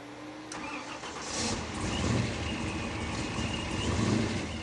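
A Ford Mustang Eleanor with a 725-horsepower engine cranks and fires up, catching into a loud, rough rumbling idle that swells and surges, close by with no talk.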